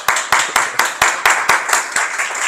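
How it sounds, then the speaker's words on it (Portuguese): A church congregation applauds in rhythmic unison, about ten sharp, steady claps spread over a couple of seconds. The clapping is fairly loud and close, with a hint of voices underneath. "Vamos aplaudir por essa palavra?"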